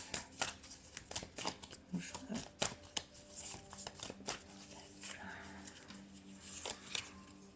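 Tarot cards are shuffled and one card is drawn, giving a close run of quick papery riffles, slaps and flicks under soft, intermittent talk.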